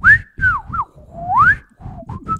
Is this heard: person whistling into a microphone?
yes